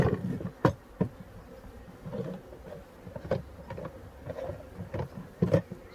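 Newly arrived honeybees crowd inside a package box, their buzzing a low, fluttering drone that swells in short bursts and dips again, close up and moderately loud, with no voices.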